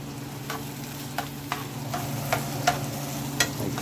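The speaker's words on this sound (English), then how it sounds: "I'm going to saute those first to get them soft before I mix them all in the patties" Diced onion and bell pepper sautéing in a pan, a continuous steady sizzle with periodic clicks and scrapes of a utensil stirring, close and unaccompanied by speech.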